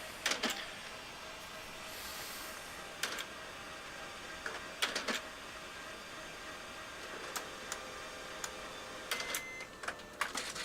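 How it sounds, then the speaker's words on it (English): An HP laser printer running a demo report with no paper loaded, heard as faint intermittent mechanical clicks and whirring bursts over a steady electronic hum, with no voices. "So now all I have to do is tell the printer to print a demo report."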